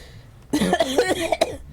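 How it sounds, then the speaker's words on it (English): A cluster of several harsh, throaty coughs up close, bursting out in quick succession after a quiet moment. "there's a cough in my throat"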